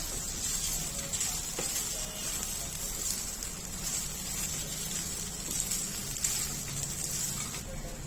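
Pieces of fried chicken for Chicken 65 sizzle steadily as they are tossed into a garlic tempering, giving a continuous close hiss of hot oil with faint stirring underneath.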